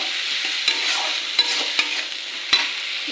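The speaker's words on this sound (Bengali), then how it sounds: "ভালো করে একটু নেড়ে চেড়ে নেবো" Chili powder and turmeric stirred in oil in a frying pan for a prawn tel jhal, with a steady close sizzle broken by a few sharp scraping strokes of the spatula.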